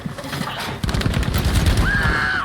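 A Thompson submachine gun rattles out a rapid continuous burst of fire in the video game Battlefield V, loud and close, joined by a tonal game sound near the end.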